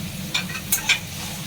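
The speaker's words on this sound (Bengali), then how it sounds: "সামান্য জল দিচ্ছি যাতে মশলাটা পুড়ে না যায়" Water splashed into spices frying in a pan for fish rezala, giving a few short, bright sizzling hisses over a low, steady cooking background.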